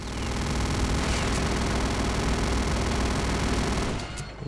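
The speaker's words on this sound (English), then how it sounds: "There is also a minigun in this game in the form of Venom" The Venom minigun from Return to Castle Wolfenstein firing in a long, continuous rapid stream of shots, loud and steady, then cutting off abruptly near the end.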